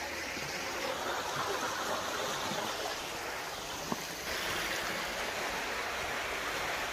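Steady rushing flow of river water, broadband and continuous, heard while out fishing for carp on a river, with faint background hiss and no talk.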